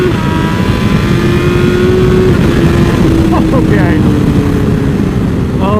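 A Brentuned BMW S1000RR motorcycle engine revs loudly and climbs in pitch as it accelerates, a steady close roar through the whole stretch, with a voice speaking briefly over it.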